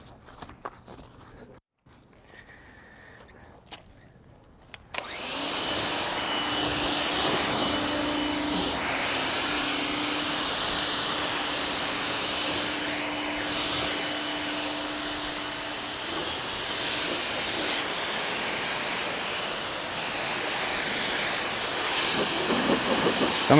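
A hissing water spray rinses a 2022 BMW G80 M3 Competition xDrive during a decontamination wash, starting after a few quiet seconds and continuing as a loud, steady rushing spray to the end.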